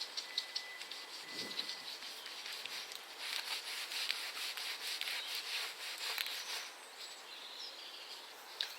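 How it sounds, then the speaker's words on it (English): Scrubbing while cleaning a greenhouse on an allotment garden in January, a faint, uneven rubbing and brushing texture with irregular strokes and no talking. "So I have to do some scrubbing."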